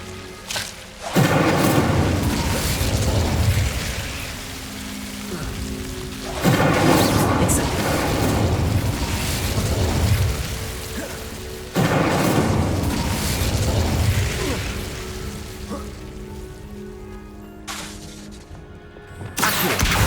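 Incendio fire spells blast three times in Hogwarts Legacy's catacombs, each a loud, booming burst with a crackling roar that swells and rumbles before the next one hits.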